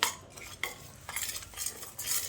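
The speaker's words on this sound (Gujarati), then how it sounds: "હવે એને મિક્સ કરીએ." A spoon works jaggery into sorghum flour batter in a pot, giving a few quiet, scraping stirs with soft clinks at close range.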